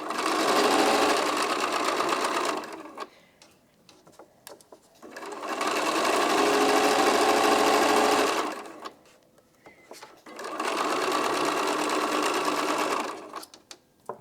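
A sewing machine stitches a Chocolate Chip quilt block in three steady, loud runs of rapid whirring, each lasting a few seconds and separated by quieter pauses with fabric handling.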